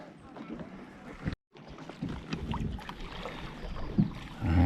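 Canoe and kayak paddling on Lake Crescent, soft water splashes and dips under wind noise, with a brief break and a louder gust near the end.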